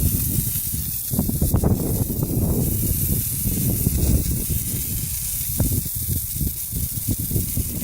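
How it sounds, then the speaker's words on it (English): A garden hose fitted with a spray attachment washes out a rock salt finish on fresh concrete, giving a loud, steady hissing spray that surges and wavers in strength as the stream moves across the surface. "I'm just using a hose with an attachment"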